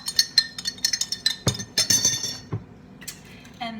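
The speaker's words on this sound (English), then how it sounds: "stir it all up." A spoon clinks repeatedly against a glass while stirring iced coffee, a quick run of bright metallic taps that slows and thins out toward the end.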